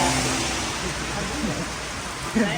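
Steady rain falls outdoors in rural Thailand, a dense, even hiss across the whole stretch with faint low rumbling beneath and a brief thump near the end.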